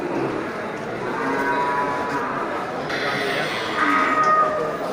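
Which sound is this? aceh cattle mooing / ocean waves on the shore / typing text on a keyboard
aceh cattle mooing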